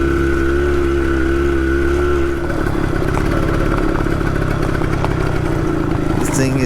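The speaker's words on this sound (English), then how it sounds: "I am sitting here riding a motorcycle I haven't seen in 40 years" A Harley X-90 Shortster minibike engine runs steadily up close, a loud continuous mechanical drone whose pitch shifts partway through as it revs.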